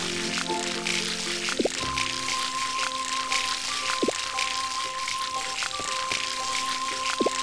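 Watering can splashes in the farming game Harvest Moon, several short liquid pours and drips repeating at intervals over continuous game music.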